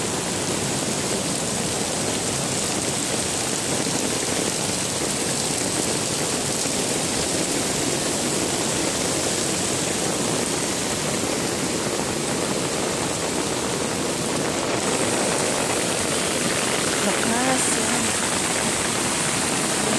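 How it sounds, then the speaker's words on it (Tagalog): Rainwater rushes loudly through a roadside drain after a heavy downpour, a steady broadband roar of flowing water that fills the whole stretch without letup. "maagos ang tubig lumaragas ang tubig lakas"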